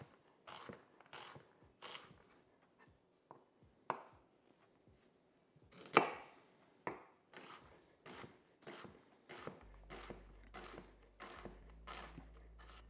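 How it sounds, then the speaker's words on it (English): A knife slicing through a regular onion on a board, cutting it into quarters and then slices: a series of crisp, close, separate chops in an uneven rhythm, some sharper and louder than others, with no talk over them. "I'm just going to slice it into quarters and just slice that"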